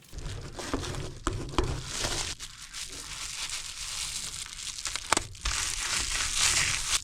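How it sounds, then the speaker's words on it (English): SureTape 686 foil tape being applied around a patch panel on HVAC ductwork, close up, making crinkling, crumpling and tearing sounds with a few sharp pats and rubs, steady over several seconds with no talking. "I'm gonna take some SureTape 686 around this so this is nice and airtight"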